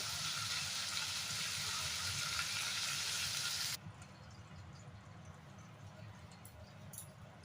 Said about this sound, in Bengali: কচুটা বেশ ভালো ভাজা ভাজা হয়ে যাবে